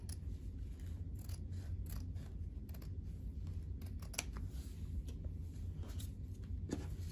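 Scissors snip through fabric and ribbon close to machine-embroidered stitches on a holiday treat bag, a series of sharp, irregular clipping cuts over a steady low background hum.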